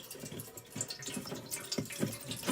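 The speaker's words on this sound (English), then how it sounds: "loosen it up a little. And you can see the water's coming out" Water draining from a loosened washing machine drain filter, a steady trickling and splattering flow with small irregular drips, close and moderately quiet.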